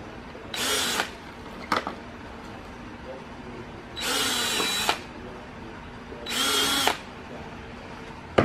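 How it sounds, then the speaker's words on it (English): A DeWalt drill spins a countersink bit in three separate bursts of about a second each, the first short and the last two longer, with a brief knock in between. Faint background noise fills the gaps. "This one on this DeWalt, this is a it's like a countersink tool."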